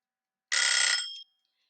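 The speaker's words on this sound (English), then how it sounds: "there's my timer going off" A timer alarm sounds alone for about three-quarters of a second, a loud, bright, buzzy electronic tone with a rapid pulsing flutter that cuts off and leaves a faint ringing tail.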